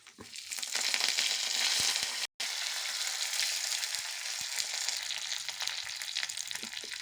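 Mustard seeds, cumin, green chillies and curry leaves sizzle in hot oil for a tempering, a loud continuous hiss with sharp crackles and pops, briefly cut out midway, no talking.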